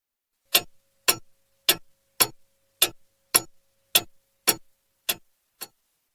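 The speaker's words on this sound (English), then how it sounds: "Tick." A clock ticks ten times at a steady rhythm, each tick a bright, dry click close by, with total silence between and the last few slightly softer.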